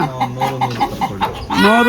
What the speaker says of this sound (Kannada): ಕಡಕ್ನಾಥ್ ಕೋಳಿ ಇದು ನಾಟಿ ಕೋಳಿ